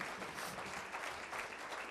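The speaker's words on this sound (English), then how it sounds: "Let's give him a round of applause." An audience at a talk gives a brief round of applause, a dense, even patter of many hands heard at a distance and fairly faint.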